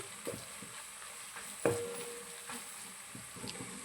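Quiet sizzle of spices frying in a pan, with a few light clinks and stirring scrapes scattered through.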